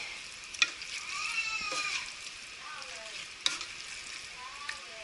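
Chicken pieces browning in a pan for arroz caldo, a soft continuous sizzle with a couple of sharp utensil clinks, fairly faint and close.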